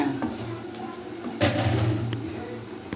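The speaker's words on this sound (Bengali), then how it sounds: "পেঁয়াজ, ডিম, কাঁচামরিচ, হলুদ এগুলো দিয়ে নাড়াচাড়া করে" Egg, onion, green chili and turmeric being stirred in a frying pan, with soft sizzling and scraping of a utensil against the pan and a louder clatter midway.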